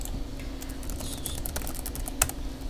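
Fingers tap out a terminal command on a computer keyboard, a quick run of light clicks with one sharper keystroke near the end, close and fairly quiet over a low steady hum.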